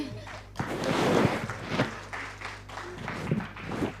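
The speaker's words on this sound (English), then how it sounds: "Please let us give them a resounding applause." A conference audience at a national MSME event claps for the panelists, a dense burst of applause that swells and then tapers off, with some murmuring and movement mixed in.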